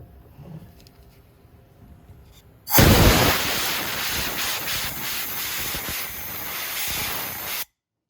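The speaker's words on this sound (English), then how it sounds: "put the compressed air in there because we don't want to get any dirt in" Compressed air blowing dirt out of a spark plug well on a 2019 Yamaha Wolverine: a loud, steady hiss that cuts in abruptly after quiet rustling and stops sharply several seconds later.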